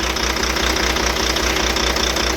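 A Volvo truck diesel engine idles close by, rough and uneven with a rhythmic knocking thump from a misfire caused by a dead injector, the beat repeating steadily throughout.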